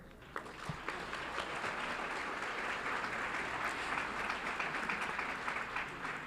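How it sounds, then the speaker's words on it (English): Sustained audience applause for scholarship winners at a school board meeting, many hands clapping in a dense, steady wash from start to finish. "Let's give them all a round of applause."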